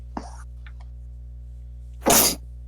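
A single sharp sneeze bursts out near the end, loud and close, after a faint voice sound and low steady hum in a quiet room.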